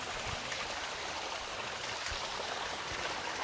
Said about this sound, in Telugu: ఇక్కడ పైనుండి వాటర్ అయితే వస్తున్నాయి